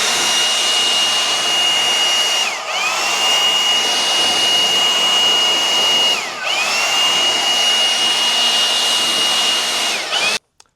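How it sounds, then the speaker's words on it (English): A leaf blower clearing sawdust and debris from a Norwood HD36v2 sawmill, a loud, close, steady high whine broken by three brief dips in blowing before it cuts off at the end. "What I typically use for a first go around is going to be just a blower and get all the big stuff out"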